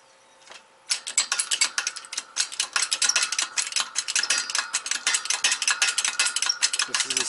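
A socket wrench ratchets rapidly on a VW MK2 GTI/Jetta rear disc brake, a dense run of close, crisp clicks that starts after a brief quiet moment and continues steadily to the end.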